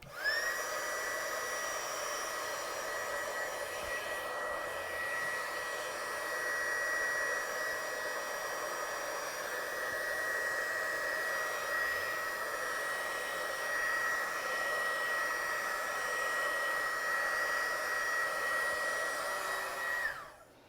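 A hair dryer blows steadily over watercolour paper for about twenty seconds, a loud constant whirring hum with a high whine, close and uninterrupted, cutting off at the end.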